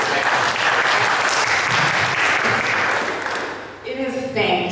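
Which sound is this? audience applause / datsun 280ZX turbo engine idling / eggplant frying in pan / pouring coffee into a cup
audience applause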